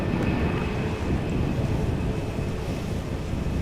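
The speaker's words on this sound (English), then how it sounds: "It sounds more windy than it is." Constant rumbling wind buffeting a microphone beside Amsterdam Schiphol Airport, dense low-pitched roar filling the whole stretch with no pauses.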